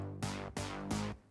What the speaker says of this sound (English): So that one is Serum, just with a couple saw waves and just slightly detuned